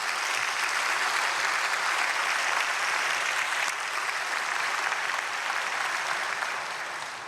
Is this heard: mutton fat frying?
no